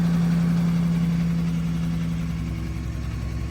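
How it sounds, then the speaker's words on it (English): An abandoned armoured personnel carrier's engine idles steadily and close, a low constant rumble with a strong droning hum that holds even throughout, with no talking. "I'll let it run here for a little bit and then I'll try and drive it up the yard"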